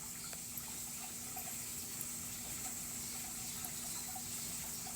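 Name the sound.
small garden waterfall by a grotto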